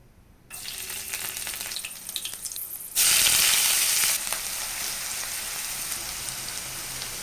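Onions frying in hot oil with ginger and garlic paste for a chicken curry, a steady close sizzle that suddenly swells into a loud hiss for a second or so, then settles back to a constant crackle, no voices.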